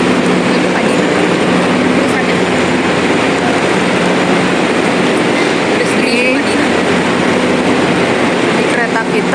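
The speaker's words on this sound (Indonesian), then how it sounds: "Ini kereta cepat kita." Inside a high-speed train bound for Jeddah, a loud, constant rumble of rolling wheels fills the cabin, with a faint voice now and then under the steady roar.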